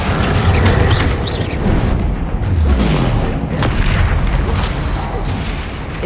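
Confringo fire-spell explosions in the PS5 game Hogwarts Legacy, during a troll fight: a dense, continuous run of heavy, booming blasts and rumbling impacts, loud and close with no pauses.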